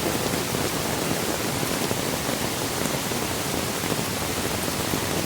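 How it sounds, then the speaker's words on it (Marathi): Heavy monsoon downpour in Konkan during flooding, a dense, steady roar of rain that stays loud and unbroken throughout with no voices. "पाऊस बघा असला धोधो पाऊस पडतोय"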